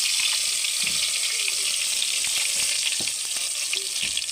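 Cinnamon, cloves, cardamom and bay leaf sizzle in hot oil in a cooking pot, giving a steady, bright frying hiss with a few soft stirring knocks underneath.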